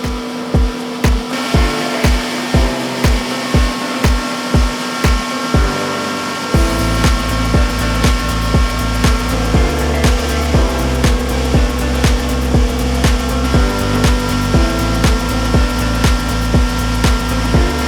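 A factory grinding machine powders half-boiled rice with a loud, continuous mechanical roar and steady rhythmic thumping throughout, shifting to a fuller, denser drone partway through.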